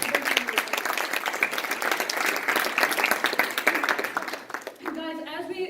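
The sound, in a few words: audience applause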